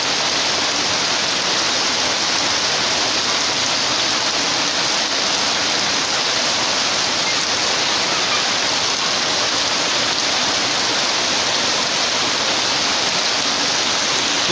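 A torrential downpour during the puja season falls on flooded houses, a loud unbroken roaring hiss close by that stays constant throughout, with no voices.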